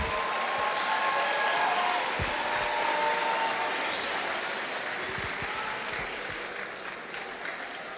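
Audience applause at a Women's History Month celebration in a high school, a sustained, moderate wash of clapping that slowly fades toward the end, with no talking over it.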